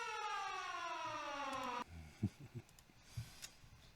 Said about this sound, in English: here's a warning siren about that